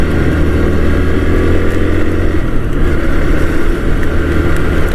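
A motorcycle ridden in the rain, heard as a loud, unbroken roar of engine, wind and spray that stays close and steady throughout.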